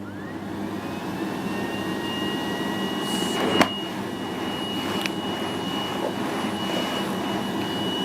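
A Miele CX1 Blizzard Comfort Powerline canister vacuum cleaner switches on and runs, a click followed by a steady close whine and airy roar that rises briefly in pitch, then holds, with a couple of faint clicks.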